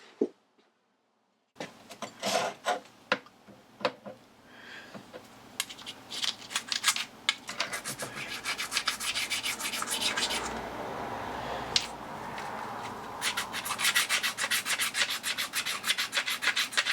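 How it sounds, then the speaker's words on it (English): An oil stone rubbed back and forth across the top of a lathe tool to take off the burr, giving close, steady scraping strokes in a quick repeated rhythm after a brief quiet start. "rub an oil stone across the top just to take off the"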